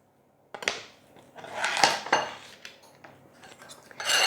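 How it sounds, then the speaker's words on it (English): Finely diced raw salmon being mixed with herbs and spices in a bowl, giving irregular clinks and scrapes of utensil against the dish with soft wet shuffling in between. "I'm going to add my salmon that's finely diced to my herbs and spices"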